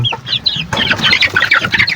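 A free-ranging hen clucks in a series of short, close calls, with other fowl chattering and squawking around her in a busy, noisy farmyard.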